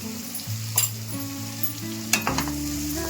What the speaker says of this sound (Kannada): ಹಾಕೊಂಡು ಚೆನ್ನಾಗಿ ಫ್ರೈ ಮಾಡಬೇಕು.